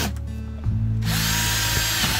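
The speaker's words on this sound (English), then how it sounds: "So I'm going to have to drill some holes in here" A power drill whirs briefly, stops, then starts again and bites into a plant container, drilling holes with a rising, grinding whine, close and loud.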